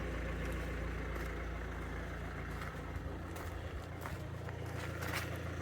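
A car engine with a DPF warning light history idles steadily in a continuous low rumble, heard fairly faintly with occasional small clicks and knocks over the drone.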